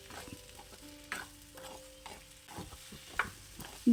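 Raw mango pieces are sautéed and stirred in a pan for pickle, giving faint scraping and soft sizzling with a few louder knocks of the spoon against the pan.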